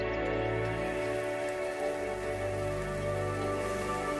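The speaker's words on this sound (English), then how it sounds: "the long-awaited rain returns" Steady rain pouring over parched land in Zimbabwe, a dense continuous patter on surfaces with a low rumble beneath, no voices.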